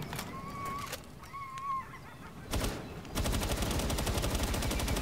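Automatic gunfire rattles in the video game Palworld, a rapid, loud, sustained burst of shots that follows a few brief single shots and chirping game sounds.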